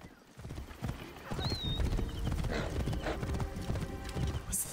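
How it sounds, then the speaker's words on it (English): Horse hooves clip-clop in a quick galloping rhythm in Assassin's Creed Origins, close and steady under game ambience, with a brief whinny and occasional talk. "Or ride your horse, rather."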